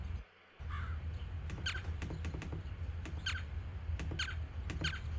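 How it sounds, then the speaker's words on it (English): A crow caws repeatedly in a cartoon farm video game, harsh calls recurring about once a second over a steady game background ambience. "Also, he's doing a terrible job of scaring this crow."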